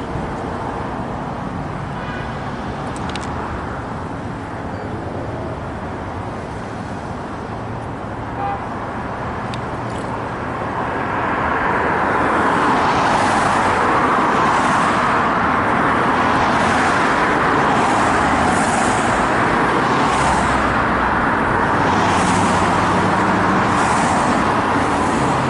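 A police car approaches the scene of a traffic accident amid steady road and traffic noise, and the engine and road rumble swell louder partway through before holding at a loud, continuous level.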